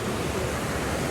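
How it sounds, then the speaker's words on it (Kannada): Water of the Kali river at Dandeli flows with a steady, broad rushing wash, continuous and fairly close. "ಕಾಳಿ ನದಿ"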